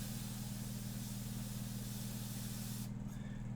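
An airbrush spraying ink at close range onto a portrait painting, giving a steady airy hiss over a low compressor hum, continuous and loud, until the spray cuts off near the end and only the hum remains.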